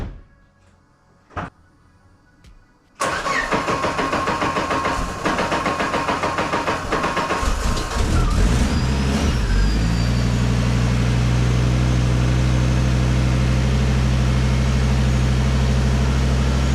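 A five-cylinder Mazda Miata engine fires up for the first time after quiet handling noises, cranking then catching into a loud, rough idle that settles into a steady, deep drone with its exhaust disconnected.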